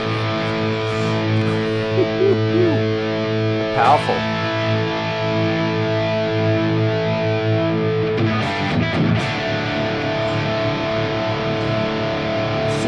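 Distorted electric guitar, a Jimmy Page number 1 model with a super thin neck, playing sustained chords through a hot, overdriven tone with brief pauses, while someone says a word over it.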